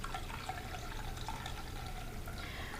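Salted water pours gently into a container around an empty cup, a quiet, continuous trickling stream with soft splashes that runs steadily from start to finish.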